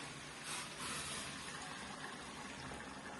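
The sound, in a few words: hot water poured into cooking masala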